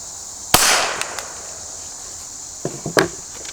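A single sharp gunshot from a CCI SGB round fired out of a Taurus snub-nose revolver, loud and close, with a short decaying tail, followed a few seconds later by a few faint knocks and a small crackling burst.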